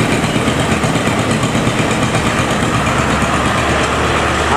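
An economy-class Bintang Luragung Sohib bus with a Hino AK engine crawls through a traffic jam between Cikampek and Subang, its engine a loud, constant idling drone with heavy vibration.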